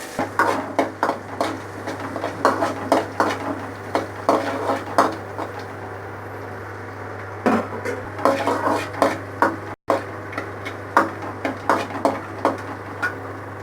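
Chopped onions with a couple of cinnamon pieces stirred in a pan for coconut rice: a steady, rhythmic series of close spoon scrapes and clatters against the pan, loud and continuous with a brief pause.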